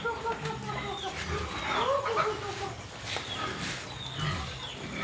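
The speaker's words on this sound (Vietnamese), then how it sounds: "nghe bản hòa ca của các chú heo" Pigs on a rural farm in Bạc Liêu, Vietnam squeal and grunt in an overlapping chorus, loud and near, with chickens mixed into the busy yard noise.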